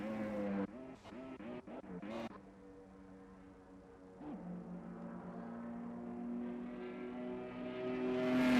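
Race car spinning out in an F1 racing game at Melbourne's Albert Park circuit: sharp engine blips and skid bursts at the start, then a sustained engine tone climbing louder toward the end, with no talk.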